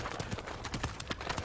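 A horse's hooves clip-clop in a quick, uneven run of strikes as it is led away across the ground, with no voices present.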